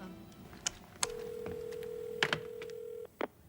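A telephone on speakerphone rings once with a long steady electronic tone, set off by short clicks and beeps before and after it, with no talking over it.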